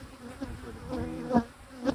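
Honeybees buzz steadily around an open hive during an inspection, a close, continuous drone with short louder swells as individual bees fly past.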